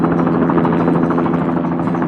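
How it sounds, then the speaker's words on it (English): A blue animated helicopter flying over a city, its rotor making a loud, steady throbbing drone with rapid regular pulses throughout. "a blue helicopter glides gracefully through the morning sky."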